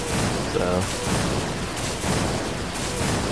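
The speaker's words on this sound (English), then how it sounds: "We're gonna do two lightning marbles and see what kind of damage we can get out of it." Thunder-element marble attack in Final Fantasy X HD, two lightning blasts in battle, a dense crackling roar of electric bursts and rumbling booms filling the whole stretch, loud and continuous.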